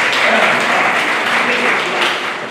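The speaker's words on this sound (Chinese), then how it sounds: "掌声给局长鼓励。" A crowd at an East Asian ink-and-color painting and calligraphy exhibition applauds the culture bureau director with dense, continuous clapping that fills the room and eases off slightly at the end.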